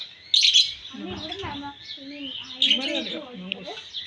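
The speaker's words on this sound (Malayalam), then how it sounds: "ഇത് ലവ് ബേർഡ്സ് അല്ലേ ഈ ഇരിക്കുന്നത്?" Lovebirds chirp and tweet in quick, bright bursts, close by, with short squeaky calls coming in two clusters against a quiet background, at a zoo in Barka, Oman.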